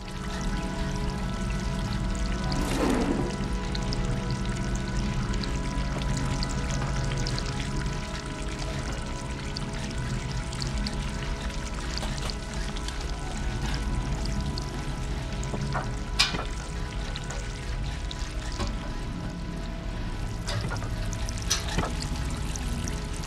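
Water pours and trickles steadily in the video game Stray, a continuous close stream with faint splashes and occasional small clinks over a low ambient hum, with no voices.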